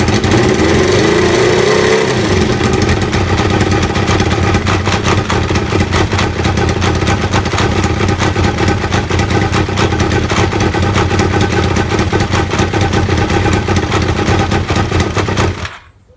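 A Kawasaki ZL600 Eliminator motorcycle engine idles steadily with its airbox unattached, a close, loud, continuous rumble that holds even and then cuts off abruptly at the end.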